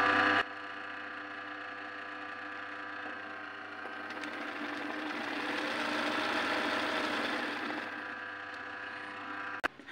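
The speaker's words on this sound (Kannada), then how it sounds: "ಇವಾಗ ನಾನು ಇದರಲ್ಲಿ ಮೆಷಿನ್ ಆನ್ ಮಾಡಿ ಅದೇ ಸೇಮ್ ಮಾಡ್ತಾಯಿದ್ದೀನಿ" An embroidery machine runs continuously with a steady mechanical hum and whirring that swells slightly midway, then ends with a sharp click.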